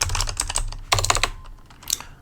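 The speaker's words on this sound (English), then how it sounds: "I cannot type today" Fast typing on a computer keyboard: a dense run of close, crisp key clacks, a brief pause, then another quick flurry and a final few strokes, no talk.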